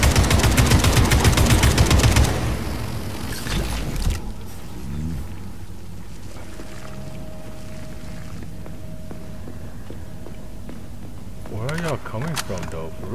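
Gun firing in the video game Atomic Heart: a loud rapid stream of shots in the opening seconds, fading into quieter game ambience, with a voice speaking over it.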